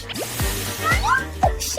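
A few drops of sauce fall one after another into a melted chocolate fountain, each a quick wet plink with falling pitch, close and distinct over a faint steady hum.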